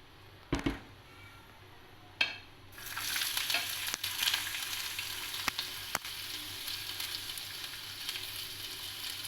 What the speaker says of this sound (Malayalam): ഇനി നമുക്കിത് എണ്ണയിലിട്ട് വറുത്ത് കോരിയെടുക്കാം